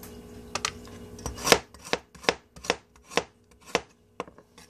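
Knife chopping celery on a board while preparing vegetables to sauté for a pork roast: about ten sharp, evenly spaced cuts in a steady rhythm, close and clear, with no talking.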